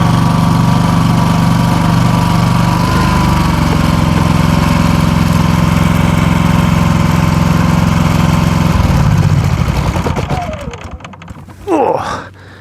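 An RV generator engine runs loudly in extreme cold, a steady close droning rumble that cuts out near the end, leaving quieter handling sounds.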